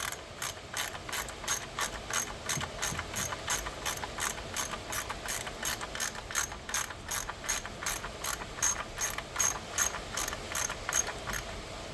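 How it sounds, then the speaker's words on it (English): A ratchet clicks in quick, even bursts while tightening valve cover bolts on a 2016 Ford Fiesta, a crisp repeated pawl rattle heard close up and alone, with regular strokes running throughout. "I'm going to tighten these ones"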